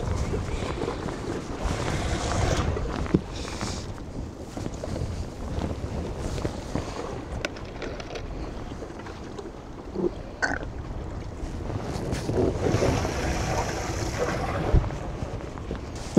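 A fishing boat pounding through choppy waves on open water, with rushing wind buffeting the microphone, hull slaps and spray under a steady roar, and a voice talking intermittently.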